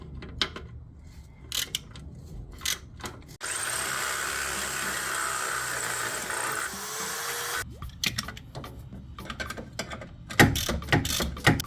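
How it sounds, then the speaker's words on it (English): A 13mm socket wrench ratchets in quick bursts of close clicking while tightening a Jeep rear lift bracket, broken by a few seconds of steady machine whir, then more ratcheting. "Using a 13mm socket wrench, go ahead and tighten."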